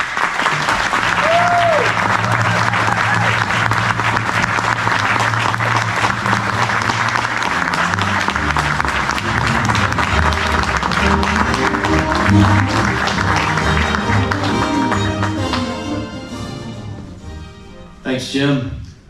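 An audience applauds loudly and steadily to welcome Major Zach Peterson at the College Football Hall of Fame in Atlanta, with music playing underneath before the clapping fades at the end.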